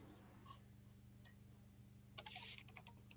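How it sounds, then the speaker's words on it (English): Quiet keyboard typing during an online Ultimate Werewolf game, a few isolated clicks early on, then a quick burst of rapid clacky keystrokes near the end, faint against a low steady hum. "I heard some typing."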